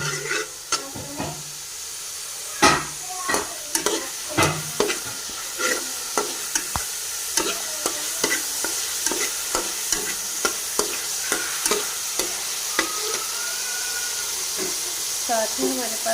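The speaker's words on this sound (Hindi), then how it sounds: "1 चम्मच लहसुन अदरक का पेस्ट, 1 मिनट तक इसे हम फ्राई करेंगे" Garlic ginger paste frying in a pan for chicken kabab, a steady sizzle broken by repeated sharp scrapes and clicks of a spoon stirring against the pan, with someone talking over it.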